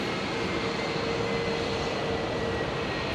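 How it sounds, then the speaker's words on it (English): Rolls-Royce engines of a Fokker 100 jet doing run-ups across an airfield, a steady distant roar with a faint sustained whine, continuous and even throughout with no voices. "We can still hear that Fokker doing the engine run-ups on the other side of the field"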